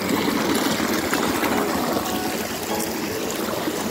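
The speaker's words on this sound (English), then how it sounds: "Especially with this little creek spot here." A small creek on a nature walk flows and trickles steadily nearby, a continuous bright rush of water filling the whole stretch without speech.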